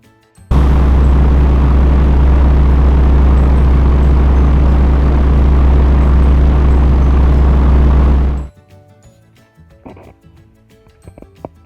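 Loud, steady engine drone of an aircraft holding for several seconds and then cutting off abruptly, followed by faint rustling.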